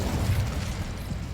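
The Incendio fire spell cast in Hogwarts Legacy, a short, close, rumbling burst of flame with heavy low-end whoosh that fills the brief moment before fading slightly.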